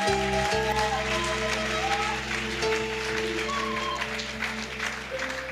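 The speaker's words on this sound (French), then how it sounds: "Clap for Jesus." A church congregation at an open-air crusade applauds over a sustained organ or keyboard chord, with steady, dense clapping throughout and faint voices mixed in.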